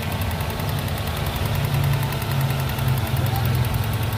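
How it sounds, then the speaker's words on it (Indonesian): A 2000 Toyota Soluna XLi engine idles with a smooth, steady, even hum at close range, never surging or faltering. "untuk bagian mesinnya monggo bisa dilihat. Suaranya juga masih halus."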